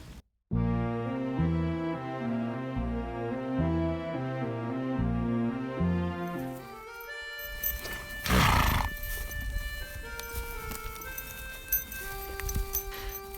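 Horses on a ranch trail: a loud, clear neigh and clip-clopping hooves rise out of music, with one strong whinny near the middle and more hoof and horse sounds after it.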